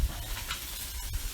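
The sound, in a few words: food sizzling in Dutch oven as pieces are flipped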